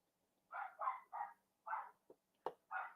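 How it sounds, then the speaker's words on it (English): A dog barks repeatedly in short bursts, fairly close, with a couple of sharper yips between the barks. "If you hear my dogs, no, they're not being murdered."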